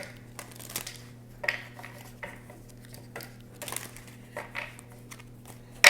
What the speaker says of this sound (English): Ooh, these cards are thick. So I'm going to have to shuffle them like this.